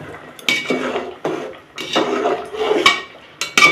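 Polao with carrots and peas stirred in a pot, a spoon scraping and clanking against the metal in several distinct bursts, close and fairly loud.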